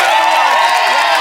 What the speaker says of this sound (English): Please give a big round of applause to Miles.